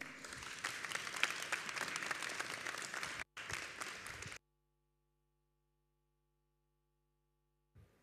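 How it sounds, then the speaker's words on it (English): A lecture audience gives warm applause for an architect speaker: about four seconds of dense, even clapping from a crowd in a hall, then it cuts to silence. "So give a warm applause to Dikkie Scipio."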